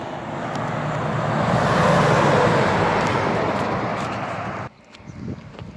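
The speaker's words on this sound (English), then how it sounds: "Also, truck coming eastbound." A truck rolls past eastbound on a road in Blue Lake, California, its broad roar swelling close and loud for several seconds before cutting off sharply into a fainter rumble of distant traffic.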